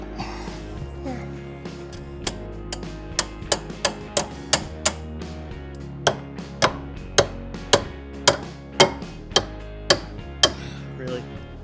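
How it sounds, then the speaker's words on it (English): Pickle fork hammered onto a ball joint during suspension removal on a 1996 Toyota 4Runner, a series of sharp metallic hammer strikes, about a dozen in a steady rhythm, ringing close and loud over faint background noise. "The pickle fork's like stuck on it"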